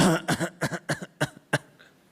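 A person's voice imitating someone coughing, a close series of about six short, sharp coughs that taper off, alone without other speech.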